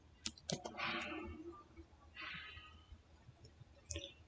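Quiet keyboard typing on a Windows 11 computer, a short run of soft clicking keystrokes in two small clusters, close and faint with no voices.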